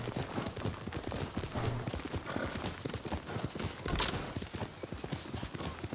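Horse hooves gallop in the samurai video game Ghost of Tsushima, a dense rapid clip-clop that runs steadily throughout at moderate loudness, with a faint whinny mixed in.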